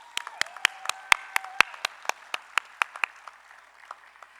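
Scattered individual claps ring out at a college commencement ceremony, sharp distinct hand strikes in an uneven rhythm that thin out and grow fainter toward the end.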